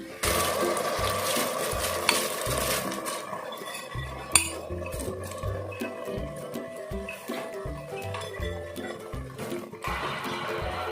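Soaked rice is tipped into a cooking pot for chicken dum biryani, with a steady run of metallic clinks, scrapes and clatter from the utensil and pot, plus a faint background sizzle.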